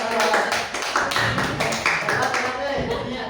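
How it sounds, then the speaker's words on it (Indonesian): A round of clapping for Widi at a session on positive school culture, a quick stream of claps that stays steady and fairly close throughout, with voices mixed in. "Tepuk tangan tuh buat Widi"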